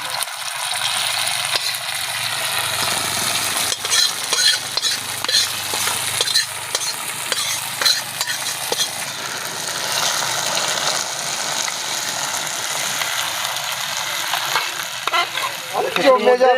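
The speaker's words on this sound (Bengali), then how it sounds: "আমরা এমনি ভেজে রাখা মশলাটা এমনি আমরা ছুঁকে নেবো খিচুড়িতে।" Ghee-fried spices stirred into Gobindobhog rice khichuri with vegetables, a continuous loud sizzle and crackle with repeated scraping of the spoon against the pot.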